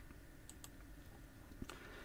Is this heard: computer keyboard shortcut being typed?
yes